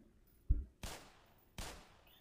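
Two sharp gunshots about three-quarters of a second apart in the game Black Mesa, each with a short ringing tail, after a brief low thump.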